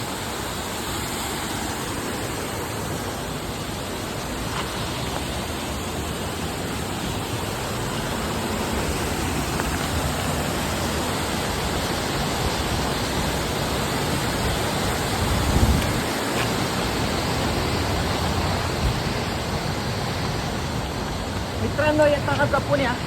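Kalu waterfall at Malshej Ghat during monsoon rain gives off a steady, dense roar of falling water, continuous and broad throughout, with a brief louder swell near the end.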